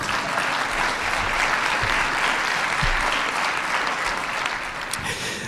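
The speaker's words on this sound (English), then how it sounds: "you may applaud." Sustained audience applause at a civic honours ceremony in Ottawa, steady dense clapping filling the room throughout, close and fairly loud, with no talk over it.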